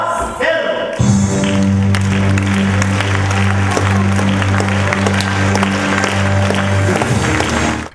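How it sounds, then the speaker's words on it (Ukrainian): Generous applause from a theatre audience at a benefit performance honouring Yuriy Kostyanitsa's golden jubilee, a dense, steady wash of clapping sustained for several seconds over a low, humming musical tone that then cuts off. "Бенефіс Юрія Костяниці пройшов під щедрі оплески глядачів"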